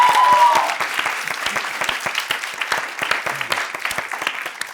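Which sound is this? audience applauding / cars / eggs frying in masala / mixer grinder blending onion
audience applauding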